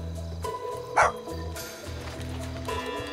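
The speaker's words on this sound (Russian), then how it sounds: "Собаки с цепи где-то рядом рвутся." Chained dogs bark in the video game GTA 5, a few close yips and woofs over a low game background hum with no speech.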